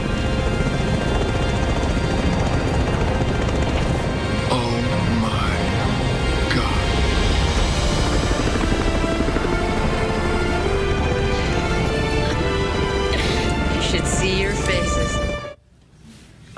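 A helicopter's rotor and engine drone loudly and continuously on a television talk-show set, with voices talking over it before the noise cuts off near the end.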